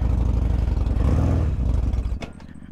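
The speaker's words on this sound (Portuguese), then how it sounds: "O trator tá com corrente" A tractor fitted with snow chains runs close by near a melting glacier on an old Argentina–Chile border crossing, its loud engine rumbling and clattering steadily before cutting to a sharp knock and quieter rattles near the end.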